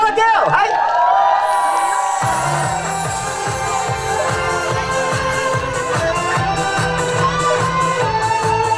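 A live concert crowd cheers, whoops and shouts loudly as a band starts up the final upbeat song, the crowd noise continuing under steady music throughout.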